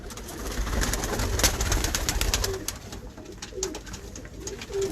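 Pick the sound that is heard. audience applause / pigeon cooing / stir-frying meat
pigeon cooing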